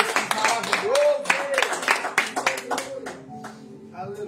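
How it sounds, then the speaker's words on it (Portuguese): A church congregation at a worship service claps in a lively burst of applause with voices mixed in, the clapping thinning out toward the end. "Eu agradeço pela oportunidade, as palmas para você."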